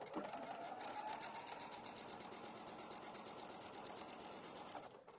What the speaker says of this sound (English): Today I'm sewing on the Epic Quilt 97, and I've picked my 1/4 inch stitch.